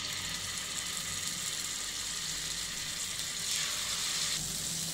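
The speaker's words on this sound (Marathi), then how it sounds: "आणि आता आपल्याला हे फ्राय करायचं" Tandoori chicken fries in a pan over a high flame, giving a steady, dense sizzle throughout with no pauses, heard up close and alone.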